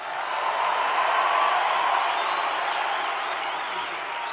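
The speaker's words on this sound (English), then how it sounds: "A round of applause for those two that are representing." An audience applauds at a youth graduation ceremony, a soft, even wash of distant clapping and crowd noise lasting throughout with no talk over it.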